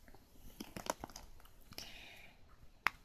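Plastic wrapping crinkles around a gacha capsule toy being opened, with scattered crackling bursts and one sharp snap near the end, close up and quiet, with no talking.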